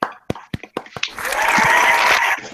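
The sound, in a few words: applause for Mark Ramble TV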